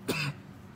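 A single short, rough cough merges into a throaty clearing sound, close and fairly quiet, then fades into near silence.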